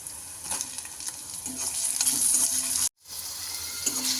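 Onion and tomato sautéing in hot oil for Schezwan poha, a steady close sizzle with repeated stirring scrapes, briefly cut to silence near the end before the frying resumes.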